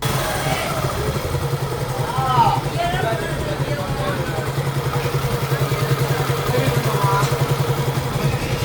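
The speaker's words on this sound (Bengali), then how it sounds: "এখন আমরা যেটা করব সেটা হচ্ছে বাইকটার সাউন্ড শোনাবো আপনারা সাউন্ড শোনেন" A motorcycle just back from servicing runs steadily at idle with an even low rumble throughout, while voices chatter in the background.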